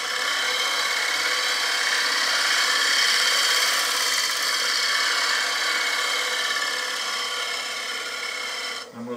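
A bowl gouge cuts a wooden bowl turning on a lathe, producing a continuous close-up scraping hiss of fine shavings that holds steady for about nine seconds and stops at the end.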